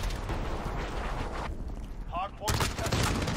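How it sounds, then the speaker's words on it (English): Gunfire in Call of Duty Modern Warfare 2019 multiplayer, with dense shooting and explosive noise, a brief lull, then another loud burst of shots, mixed with game sounds and a voice. "What gun was he shooting me with?"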